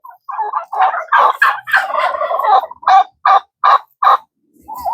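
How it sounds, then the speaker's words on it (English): A female turkey calls in a run of raspy yelps, first blurred together and then spaced into a steady series of sharp notes, loud and close. "You hear the sound of that female turkey versus the males?"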